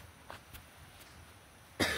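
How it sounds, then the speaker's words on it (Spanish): A single sharp cough bursts out near the end, following a few faint scattered clicks and a quiet background hum. "Me quiere dar tos de tanto chistar."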